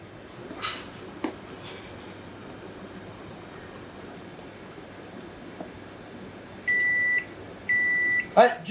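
An oven set to 230 degrees bakes a sweet white pizza topped with apples and white chocolate. A low steady hum runs throughout, then two short runs of electronic beeps sound near the end.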